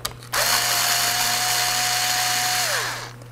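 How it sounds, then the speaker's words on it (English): A cordless screwdriver spins steadily for a few seconds, removing screws from a Dell G5 5500 gaming laptop, a close whirring whine that starts abruptly and winds down at the end. "It's not a drill, it's a screwdriver."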